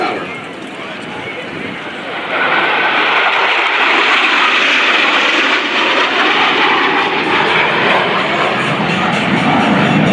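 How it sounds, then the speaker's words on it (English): Blue Angels 5 and 6, US Navy jets, approaching the flight line at about 400 mph during the NAS Oceana air show: a loud, sustained jet roar swelling after a couple of seconds and holding steady, with an announcer talking over it. "Blue Angels 5 and 6 are approaching the flight line at 400 miles per hour."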